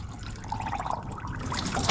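Water pours and trickles steadily into a car's engine cooling system during work to lower engine bay temperatures, a close, continuous gurgling flow lasting a couple of seconds.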